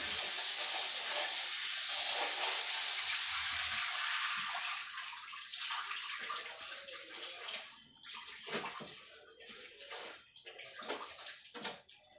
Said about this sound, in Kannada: ಚೆನ್ನಾಗಿ ತೊಳಿತಾ ಇದ್ದೀನಿ ಅದಕ್ಕೆ ಯಾಕಂದರೆ ಸೊಪ್ಪದಾಗೆ ಹಿಂದೆ ಮಣ್ಣು ಮಣ್ಣು ಹಾಗೆ ಇರುತ್ತೆ